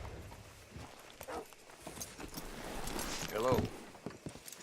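Horse hooves clip-clopping in Red Dead Redemption 2, a handful of irregular hoof steps on packed ground under ambient outdoor sound, with a voice briefly greeting someone over them.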